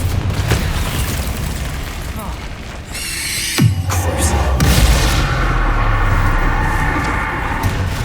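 A Confringo explosion spell in the Hogwarts Legacy video game lands as a sharp, loud boom partway through, followed by a rumbling, crackling blast that lingers over the game's background sound.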